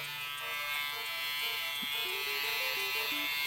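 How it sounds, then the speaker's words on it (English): Electric shaver buzzing during a shaving scene in the Snatcher video game, a steady mid-level electric hum lasting a few seconds, accompanied by short synthesized game tones and no one talking. "I think I'll try shaving again."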